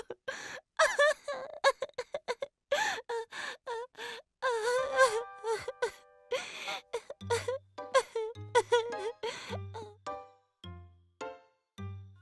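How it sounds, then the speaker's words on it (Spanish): A cartoon child cries in a series of wailing sobs and whimpers, rising and falling, then breaking into short, rhythmic gulping sobs toward the end, close and alone without other talk. "Cuando Mami regresó, Caillou estaba llorando."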